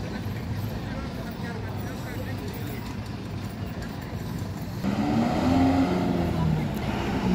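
A city bus drives past on a street in Ribeirão Pires, its engine a steady, close rumble that swells louder partway through, with continuous traffic noise and no clear talk.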